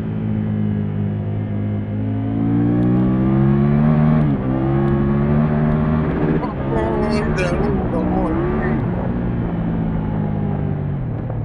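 A 2024 Triumph Tiger 1200 Rally Pro motorcycle engine drones steadily while riding, a continuous rich harmonic rumble that rises and dips with throttle, loud and close, with wind noise and a voice talking over it.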